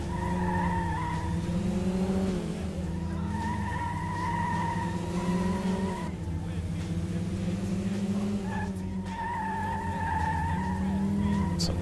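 A first-generation Audi TT race car laps a street circuit in Metropolis Street Racer, its engine holding a steady whine with shifting pitch and brief tire squeals, while a voice talks over the driving throughout.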